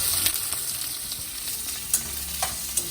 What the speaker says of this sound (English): add cumin seeds, add onions, and we have to brown our onions